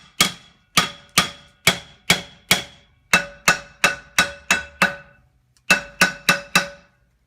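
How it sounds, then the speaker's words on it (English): A hammer strikes a brake drum on a Mitsubishi Pajero again and again, about twenty sharp metallic clangs with ringing tails in uneven bursts, close and loud. "we got the brake drum off with a fair bit of huffing and puffing and bashing. Bit of persuasion there with the hammer"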